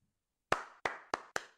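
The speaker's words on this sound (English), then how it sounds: "Clap." Four crisp hand claps ring out in quick succession after a short silence, each sharp and close, with a slightly quickening rhythm.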